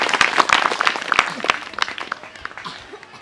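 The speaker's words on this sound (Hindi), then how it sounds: "सब ताली बजाएं यीशु मसीह के लिए" Congregation in a church claps together, sharp irregular hand claps in a busy cluster that thins out over a few seconds, close and fairly loud.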